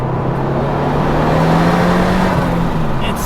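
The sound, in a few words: twin-turbo Datsun 240Z engine accelerating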